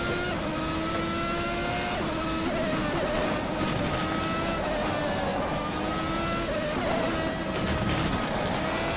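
A classic 1991 race car in the rFactor 2 racing game roars at high revs, its engine tone rising and dropping through gear changes as it winds through corners at the Portland track, continuous and close, with no talk.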